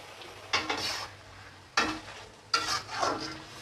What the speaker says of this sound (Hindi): ये देखें हमारी कढ़ाई जो सी है वो कितनी अच्छे से भुन रही है।